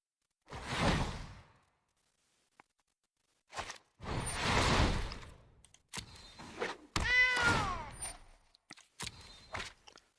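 A cat meows in the card game MTG Arena as a cat card is played, mixed with whooshing card-play effects and short bursts of game sound spread across several seconds.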